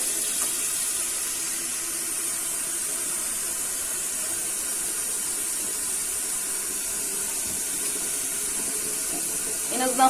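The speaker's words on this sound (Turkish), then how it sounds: "Kettle'a da suyumu koyayım." Tap water runs into a kettle in a home kitchen as a steady, even hiss of flowing water that continues throughout, with a brief clatter at the very end.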